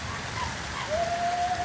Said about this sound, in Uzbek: Yomg'ir tezlashib ketdi.